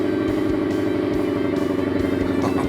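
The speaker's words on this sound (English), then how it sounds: "You hear the sound of the GT500?" A GT500 engine idles close by with a steady, low, throbbing rumble that pulses evenly throughout.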